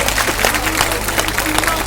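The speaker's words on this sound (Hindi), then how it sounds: "इनके लिए जोरदार तालियां" A large crowd at an outdoor pension-protest rally claps loudly and steadily, dense sustained applause close and full, with a voice faintly underneath.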